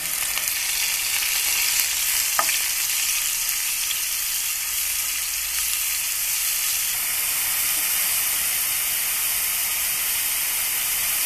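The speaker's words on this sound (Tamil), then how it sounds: "ஆயில் சூடானதுக்கப்புறமா கடுகுளுந்தம் பருப்பு சேர்த்துக்கலாம். அடுத்தது சின்ன வெங்காயம், சீரகம், சோம்பு அரைச்சி வச்சுருக்கோம் இல்லையா, அதை இது கூட ஆட் பண்ணிடலாம்." Mustard seeds and urad dal frying in hot oil with a ground paste of small onions, cumin and fennel, for a spiced egg fry. A steady, loud, close sizzle and hiss runs unbroken throughout with no talking.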